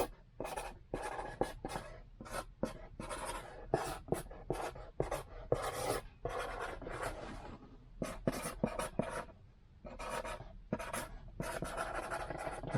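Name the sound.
writing a thank-you note inside a box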